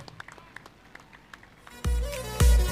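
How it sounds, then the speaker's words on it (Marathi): Spectators at a cricket match burst into loud applause after a half-century, with scattered claps first and then a sudden dense roar of clapping close to the microphone. "टाळ्यांचा कडकडाट"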